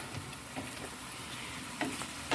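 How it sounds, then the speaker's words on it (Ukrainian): Pasta simmering in a pan as its liquid boils away, a soft steady sizzle and bubbling with occasional light stirring clicks, close and fairly quiet, no voices. "Тут кипить і майже макарони майже вібрали е, всю рідину, яка тут була."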